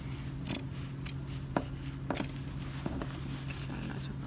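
Scissors snip through the seam allowance of a garment being altered to widen the armhole, a series of faint, crisp separate cuts at an uneven pace, close by and quiet.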